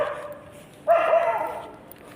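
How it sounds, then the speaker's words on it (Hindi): Dogs bark at night: one short, sharp bark or yelp bursts out, fairly distant, against a quiet dark background. "तो ये देखो कितने सारे कुत्ते अब शुरू हो गए"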